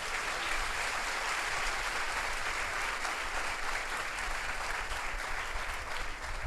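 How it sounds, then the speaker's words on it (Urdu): Loud, sustained applause fills a church leadership conference hall, a dense, steady clatter of many hands that runs unbroken for several seconds with no talking over it. "روح القدس کے جلال کے لیے زوردار تالی"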